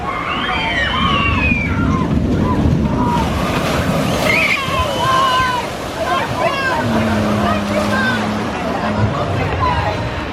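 Water sloshes and splashes around boats on the Viking Voyage flume ride at Tayto Park amusement park, mixed with a busy hubbub of riders' voices and excited shouts throughout.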